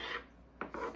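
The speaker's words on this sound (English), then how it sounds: "I start by cutting it in half." A knife cuts through sourdough bagel dough with short, soft rasping strokes, one longer pass followed by two quick close scrapes, with no voices.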